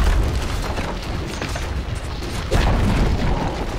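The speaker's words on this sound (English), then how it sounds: "Dire's top tower has fallen." A tower crumbling in Dota 2 rumbles as a dense, continuous booming roar across the whole span, with a heavier burst of crashing debris about two thirds of the way through.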